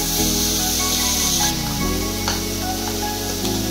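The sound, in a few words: chicken frying with vegetables in a pan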